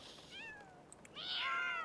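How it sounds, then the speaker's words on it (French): Cats in the life-simulation game The Sims 4 fighting, with drawn-out yowling meows, one rising and falling cry then a louder, harsher caterwaul, close and clear with no talk. "Ah, je déteste en plus en vrai les chats qui se battent"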